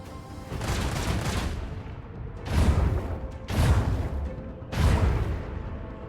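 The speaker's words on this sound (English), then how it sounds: "fire the starboard guns" Starboard ship guns in Rogue Trader fire in four heavy, loud volleys, each a booming rumbling burst with separate gaps between them and no voices.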